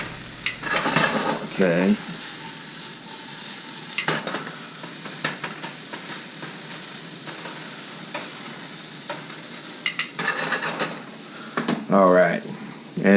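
Onions and peppers sizzle softly in a frying pan as a steady hiss, with occasional stirring clatters and brief bursts of someone talking over it.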